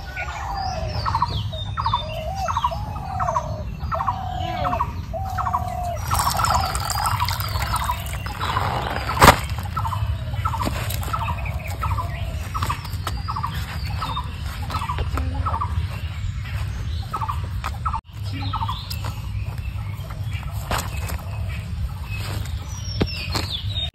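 A desi rooster calls over and over, loud and near, with harsh repeated squawking crows in a rural village setting and no speech.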